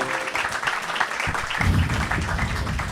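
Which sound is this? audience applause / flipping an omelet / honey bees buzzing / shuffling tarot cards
audience applause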